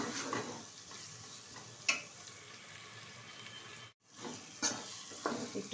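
Spice paste with a little Kashmiri chili powder frying in a pan for a chicken curry, a steady soft sizzle with occasional spoon scrapes and stirs, close and fairly quiet, no talking.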